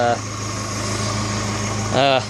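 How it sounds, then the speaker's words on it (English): A 1988 Suzuki Samurai's engine idles with a steady, low, even drone throughout, and brief voices are heard at the start and end. "She's idling fine."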